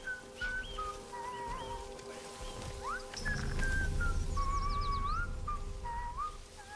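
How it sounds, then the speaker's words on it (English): A character in the video game Atomfall whistles a wandering tune of rising and falling notes, clear and close, with game ambience and a low rumble swelling under the second half. "I'm killing this guy just because I hate him whistling"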